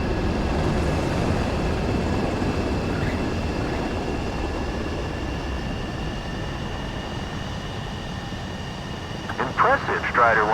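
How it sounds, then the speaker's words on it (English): Jet fighter landing on a runway in the Ace Combat 7 video game, a steady loud engine roar and rushing rumble throughout, with a brief radio-style voice near the end. "Strider 1 has landed."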